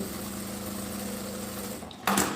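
A sewing machine runs a steady continuous stitch along the edge of a bag, humming close and even, then breaks into a brief brighter mechanical rattle near the end.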